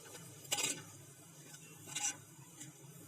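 Ghee is stirred into turnip curry in a handi pot, giving a few soft, close scraping strokes of a spoon against the pot, spaced apart over a quiet background.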